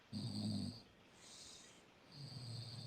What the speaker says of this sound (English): You started snoring.